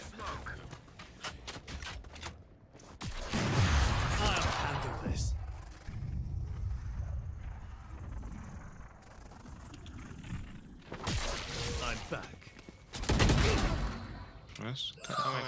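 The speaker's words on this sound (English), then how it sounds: "I headshotted her with Phantom" Phantom rifle fire in Valorant, rapid bursts of shots cracking out in two loud clusters amid game sound effects, with voices talking over parts of the round.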